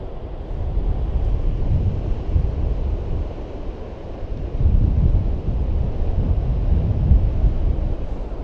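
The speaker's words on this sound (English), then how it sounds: "They're supposed to be the biggest waves here for surfing in the world" Huge surfing waves crash repeatedly on the coast, rumbling low and loud in rolling surges, with steady wind buffeting the microphone throughout and no voices.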